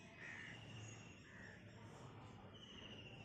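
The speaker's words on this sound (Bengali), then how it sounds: "আর ওই দিকে দূরে কোকিল ডাকছে" A distant bird calls a few times through a steady wash of rain on a wet spring morning, faint repeated notes set behind the hiss, believed to be an Asian koel across from a rooftop.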